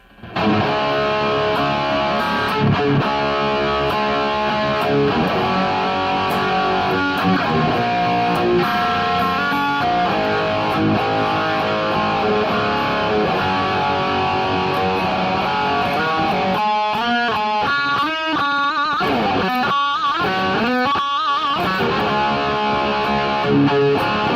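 An electric guitar tone played through a BOSS eBAND JS-10 with distortion and no chorus: continuous driven riffing and single-note lines, loud and close, with choppy stabs near the end.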